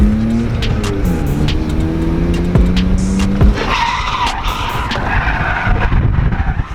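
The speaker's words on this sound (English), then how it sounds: "It sounds like one of your tires are flat." A car drives on a flat tire, its engine droning and shifting pitch while a rough scraping, rumbling roll of the tire runs steadily beneath, close and fairly loud throughout.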